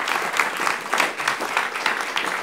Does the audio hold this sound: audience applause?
yes